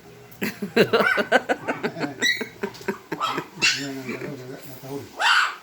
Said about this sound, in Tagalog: Matahol na sila